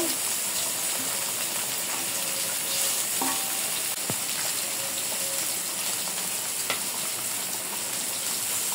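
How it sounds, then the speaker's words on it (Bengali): Hilsa fish goes into a simmering taro stolon curry, giving a continuous bubbling sizzle with faint clinks and a soft knock midway, close and steady with no talk. "আমি এখন মাছ দিয়ে দেব।"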